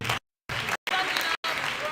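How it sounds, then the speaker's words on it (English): An audience claps for an essay competition finalist, a dense patter of applause broken by several abrupt gaps of silence. "Let's keep clapping."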